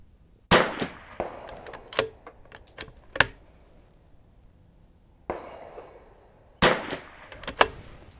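Gunshots ring out at an outdoor shooting range in calm conditions: a series of sharp, loud cracks at irregular intervals, each with a short echoing tail, and a quieter gap in the middle.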